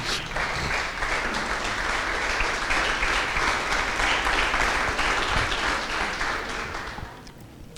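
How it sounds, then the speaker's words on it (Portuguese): A church congregation gives sustained applause, many hands clapping in a full, even roar that holds for several seconds before tapering off near the end. "dê um aplauso ao Senhor no seu lugar."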